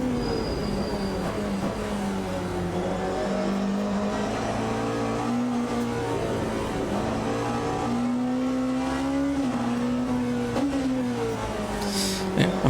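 A Porsche endurance race car in a sim racing game lapping Spa, heard from onboard: a continuous loud engine drone whose pitch rises and falls with gear changes and coasting through corners, with no talk.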